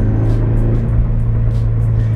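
A Subaru BRZ exhaust fitted with a Buddy Club Spec 2 system and a silencer insert idles close by with a steady, low, even burble that holds level for a couple of seconds, alone with no voices.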